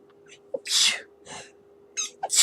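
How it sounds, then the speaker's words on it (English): A person with a sinus infection sneezes several times at close range, with sharp bursts and short breaths between them against a steady faint hum. No words are spoken. "hold on, I'm going to sneeze"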